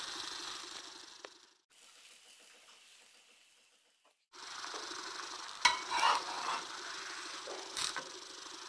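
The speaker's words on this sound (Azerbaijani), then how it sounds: "Hər iki üzünü qızardırıq." A banana pancake fries in an oiled pan, turned to cook both sides, with a soft sizzle that fades to near quiet and then returns louder, broken by a few scraping and tapping sounds.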